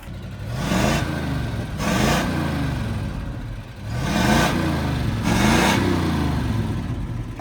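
A 1972 Ford Highboy truck engine runs and drives off, giving a steady mid-pitched drone that swells in four repeated surges of revving, close and alone without talk.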